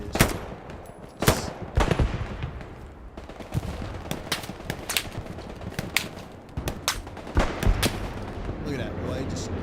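Automatic weapons fire during a competitive Halo esports match, rapid bursts and sharp cracks coming in uneven clusters over dense game noise, with a caster talking over the action.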